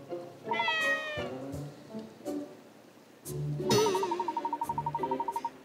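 A cat meows repeatedly in the video game Layton's Mystery Journey, drawn-out tonal mews at close range, ending in a long warbling, pulsing yowl.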